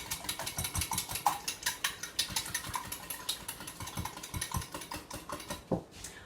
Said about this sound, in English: I'm going to just whisk them together, making sure that the milk and the eggs are